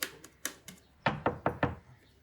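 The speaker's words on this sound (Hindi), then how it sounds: "हरी, हरी बेटा, अरे दरवाजा खोलो बेटे।" Knocking on a door, two quick bursts of three knocks: the first set sharp and light, the second heavier and duller with a hollow thud, close and loud with no talking.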